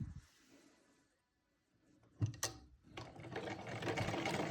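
An electric sewing machine stitches a seam on a salwar; after a quiet pause and a couple of clicks, the motor whirs up into a steady, close, rapid stitching rumble.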